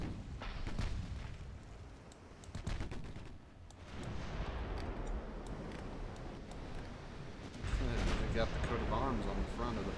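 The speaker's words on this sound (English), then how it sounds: "Now our 16-inch guns are starting to do some damage." Heavy 16-inch naval guns boom repeatedly during a battle in Ultimate Admiral Dreadnoughts, with a rolling barrage of shots in the middle distance, thickest near the end, mixed with steady battle noise and voices talking over it.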